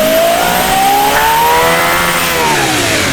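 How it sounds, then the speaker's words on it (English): Quad-turbo V12 engine in the Automation car-building game revs continuously, its pitch climbing and then sliding back down, loud and alone with no talking. "it's still definitely quite a noisy engine"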